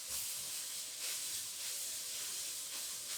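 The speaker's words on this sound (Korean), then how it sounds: "조금 볶다가 그다음 물을 넣어서 볶으면 돼." Vegetables sizzle in oil while being stir-fried in a pot, a steady close hiss with slight surges and no talking.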